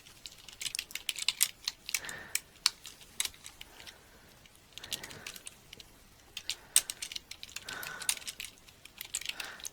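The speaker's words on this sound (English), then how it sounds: "I've typed my name in there" Typing on a computer keyboard, with quiet, close key clicks coming in short irregular bursts separated by brief pauses, no voices present.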